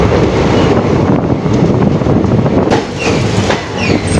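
Passenger train rumbling through a long, lit hill tunnel near Lumding, a loud, steady, enclosed roar with rolling wheel clatter and rushing air throughout.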